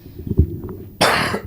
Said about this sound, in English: I know you were, like, coughing